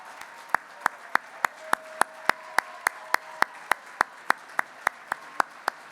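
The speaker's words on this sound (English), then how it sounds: "we'd like to have a big round of applause for all the leaders among NAMIC 18 chapters" Sharp, evenly spaced claps ring out at an awards luncheon in honour of chapter leaders, with about three claps per second in a loud, regular rhythm over a faint background hum.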